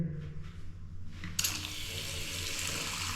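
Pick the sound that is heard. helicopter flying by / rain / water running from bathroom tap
water running from bathroom tap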